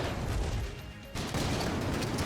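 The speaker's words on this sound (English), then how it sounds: "I like the explosions." Dense, continuous bursts of explosions and gunfire in the video game Enter the Gungeon, loud and chaotic throughout, dropping slightly for a moment before surging back in full force.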